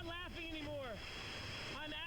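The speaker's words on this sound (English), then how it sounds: "we had to do it while the entire forest was flash flooding" A forest river in flash flood rushes with a steady, loud roar of churning water, buffeted by wind noise on the microphone, while voices call out over it.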